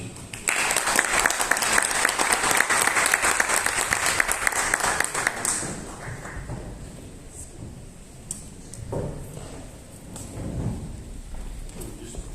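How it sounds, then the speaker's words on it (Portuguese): A lecture audience at a university short course on Aristotle's ethics gives loud, dense applause to welcome a professor to the table. The clapping lasts about five seconds, then fades into quiet room sounds with a few scattered knocks. "Para o aplauso e recepção de todos, convido a tomar a mesa o nosso professor Eduardo Wolff"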